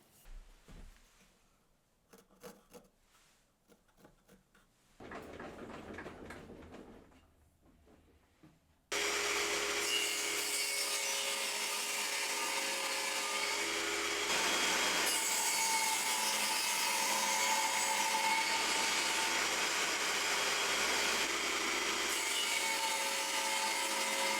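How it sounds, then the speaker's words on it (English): Table saw cutting a rebate in a piece of wood or MDF for an under-sink cabinet: a few quiet handling sounds, then a loud, steady blade whine and cutting roar that runs on without a break. "what I'm going to do is cut a little rebate on the table saw for that to go onto"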